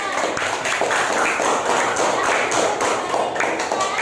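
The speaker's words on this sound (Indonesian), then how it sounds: "Tepuk tangan untuk kelompok 2" A classroom of students applauds a group presentation, a loud, steady wash of many hands clapping close by, without speech over it.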